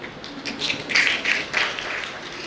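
An audience at a Jain religious teaching camp claps briefly, a soft cluster of hand claps swelling and fading over a couple of seconds with no talk over it.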